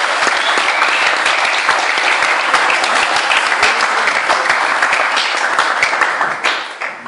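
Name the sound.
audience applause welcoming speaker Onno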